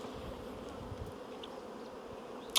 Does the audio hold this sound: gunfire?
no